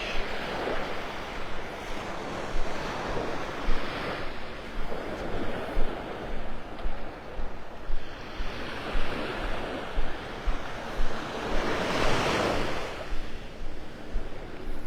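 Ocean surf rolls onto the beach at Pelican Bay in North Naples, Florida, a steady broadband wash with waves swelling and breaking every few seconds, mixed with some wind buffeting the microphone.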